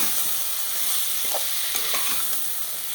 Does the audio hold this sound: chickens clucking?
no